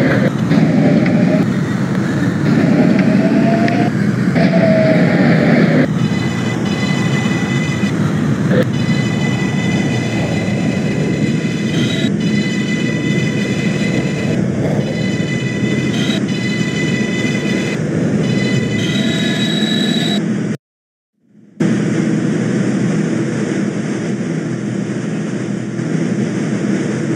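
A NYC 6 subway train in the OpenBVE simulator rumbles along steadily, with a continuous loud motor drone and rail noise, faint whining tones, and a brief cutout before the running sound resumes.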